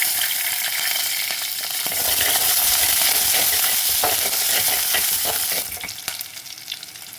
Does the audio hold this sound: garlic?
yes